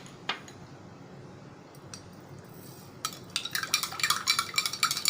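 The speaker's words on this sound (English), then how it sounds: "I am dissolving sugar in it." A spoon stirs sugar into a glass of water, with a few isolated clinks early on and then a rapid run of bright metal-on-glass taps, close and clear.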